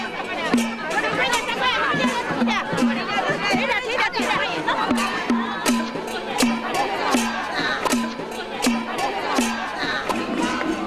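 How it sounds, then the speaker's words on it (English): Dense crowd chatter and bustle fill a street parade in a Chinese village, with a steady hubbub of many voices and regular sharp percussive hits cutting through at a lively, even pace. "The boisterous parade brings a festive atmosphere to the otherwise quiet streets."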